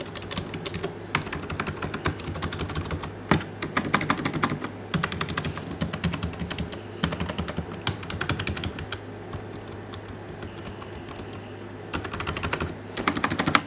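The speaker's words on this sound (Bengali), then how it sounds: "এই কিবোর্ডটার সাউন্ড যদি আমরা একটু চেক করি," A computer keyboard clicks under continuous typing, the keystrokes coming in quick, close bursts with short pauses between runs, and no voices over them.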